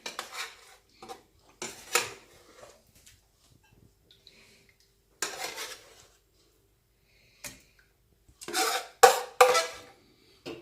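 Chicken madras curry is spooned from a pot into a serving dish, heard as intermittent scraping, clinks of metal on cookware and soft taps, with quiet gaps between short bursts and no talking.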